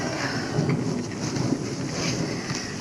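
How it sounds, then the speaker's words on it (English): Thunder rumbling during a storm, a loud, sustained low roll with steady rain-like hiss and no speech. "That last thunderclap was for me."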